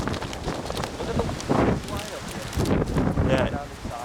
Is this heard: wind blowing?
yes